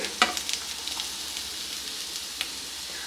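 Whole spices, garlic and grated coconut sizzle and crackle in a pan for a lentil kootu, with a few sharp stirring clicks near the start over a steady close frying hiss.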